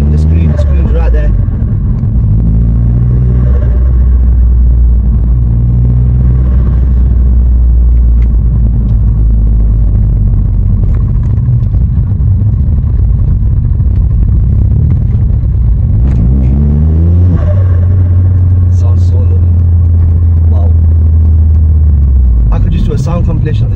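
Stage 2 Vauxhall Astra VXR engine and exhaust rumble deeply and loudly for over twenty seconds, with repeated revving swells as the pitch climbs and drops between gears, and some talk mixed in.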